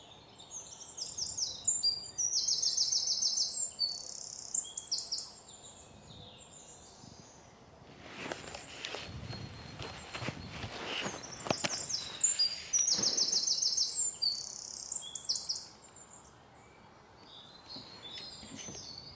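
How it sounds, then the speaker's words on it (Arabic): Sparrows and other birds sing in a coastal sea passage in Qatar, reached by kayak, with bursts of high chirping and tweeting that come and go over steady outdoor ambience and a stretch of broadband rustling noise in the middle. "صوت العصافير وصوت الطيور اللي موجودة بهالمنطقة."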